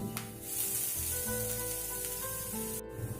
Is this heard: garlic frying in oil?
yes